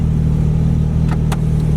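A Porsche 991 GT3 with an IPE exhaust, its valve open, gives a loud, close, steady engine drone throughout, with a couple of brief sharp bursts near the end.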